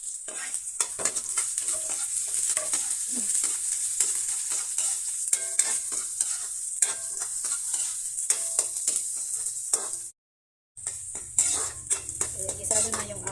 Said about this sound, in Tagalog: Ayan, gisado na yung ating mga rekado.